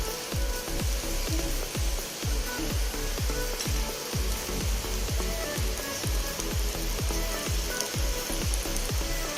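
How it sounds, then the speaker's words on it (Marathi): Rice and water, two cups of water to one of rice, heating toward a boil in a pot for Maharashtrian coconut rice: a steady loud hiss and bubble with an even, rhythmic pulse of soft knocks throughout. "आणि एक चांगली उकळ काढून घेऊया आपण।"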